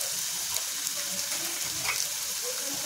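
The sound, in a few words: sautéing food in a pan with spices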